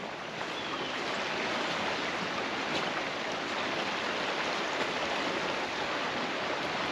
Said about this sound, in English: There's actually some swift currents going on right here.